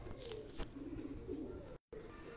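Sialkoti cross-bred pigeons coo in a low, steady murmur close by, with a soft flutter near the start and a brief dropout toward the end.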